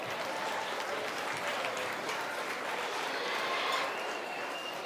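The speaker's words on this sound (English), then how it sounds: "Let's give all those kids a nice big round of applause." An indoor crowd at a state fair swine showmanship class claps for the young exhibitors, producing steady, dense applause that holds at an even level throughout with no pauses.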